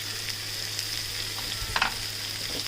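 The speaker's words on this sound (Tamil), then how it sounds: "புளி சேர்த்ததுக்கப்புறமா இதை நல்லா வதக்கி விட்டுருங்க." Tamarind sizzling in a hot pan with pepper, cumin, onion, garlic and tomato for a pepper curry, a steady close frying hiss with a brief stir partway through and no voices.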